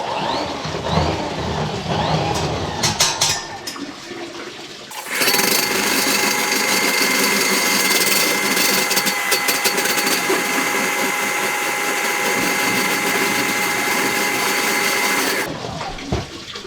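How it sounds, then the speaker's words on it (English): Milwaukee M18 drain cleaning machine clears a plugged laundry sink. Some clattering handling noise comes first, then a loud, close motor roar with churning water runs steadily for about ten seconds before cutting off. "We're going to be using the Milwaukee M18."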